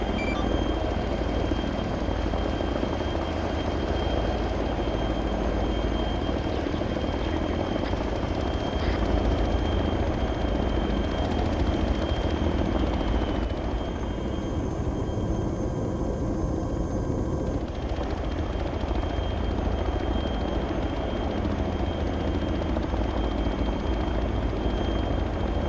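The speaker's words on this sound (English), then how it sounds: "both Chinooks are cleared to take off" Chinook helicopters take off, a dense steady rotor roar with a constant whine running throughout, loud and continuous for the whole stretch.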